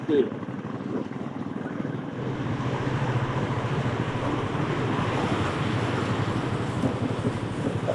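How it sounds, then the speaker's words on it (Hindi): Birthi waterfall in the Munsiyari hills: a steady, broad roar of rushing water fills the scene at constant loudness, with a faint bit of wind or handling noise at the start. "यही है वो फेमस वाटरफॉल।"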